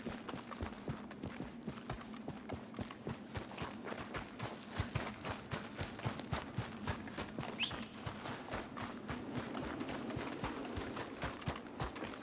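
Horse hooves clip-clop steadily on the ground in Red Dead Redemption II, a continuous walking-to-trotting rhythm under a low rumbling ambience, fairly close and moderately loud with no talk.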